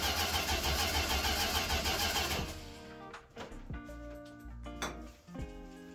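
A Road Runner car that stalled when cold is cranked: a loud, sustained starter whir, then the engine catches and settles into an uneven idle with a few sharp revs.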